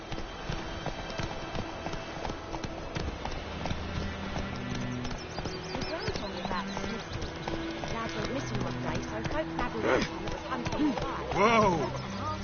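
The horse Roach gallops in a video game, its rhythmic hoofbeats pounding steadily throughout, mixed with game sounds and a brief whinny near the end while people talk over it.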